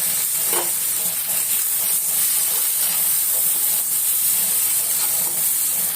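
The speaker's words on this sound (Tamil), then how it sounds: "எண்ணெய் நல்லா ஹீட் ஆனதுக்கப்புறம் நம்ம ஆனியன் சேர்த்துக்கணும்" Onions frying in hot oil give a loud, steady hissing sizzle with occasional stirring scrapes, continuous and close throughout.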